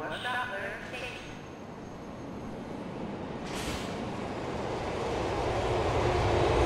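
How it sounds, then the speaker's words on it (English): A subway train rumbles as it approaches a station in Grand Theft Auto IV, a broad steady roar that swells gradually, under an automated voice announcement. "The train approaching is the train bound for Shuttler Station."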